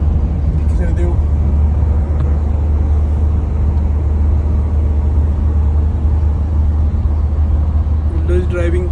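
A car drives a mountain road from Salzburg to Carinthia, its steady low engine and road rumble filling the cabin continuously, with brief faint voices near the start and end.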